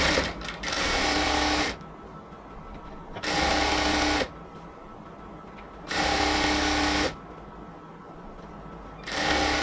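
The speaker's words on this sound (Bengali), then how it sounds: "এখানে আমরা প্রথমে লক সেলাই দিয়ে দিব। এবার উপরের দিকে সেলাই করে আসবো।" A sewing machine runs lock stitches along a salwar in four bursts of steady, loud whirring, each lasting about two seconds, separated by short quiet pauses, with no voices.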